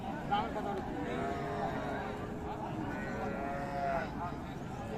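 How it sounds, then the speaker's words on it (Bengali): Cattle, including Sahiwal cows with calves, at a crowded rural livestock market in Dinajpur, with a low lowing under busy chatter and crowd murmur throughout; people talk nearby. "গাভী গরুর মোটা গরু কিন্তু প্রচুর আমদানি হয়েছে"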